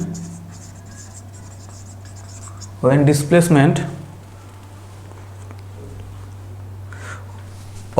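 Writing on a board during a physics class, a brief burst of scratchy marker or chalk strokes lasting about a second over a steady low room hum, otherwise quiet.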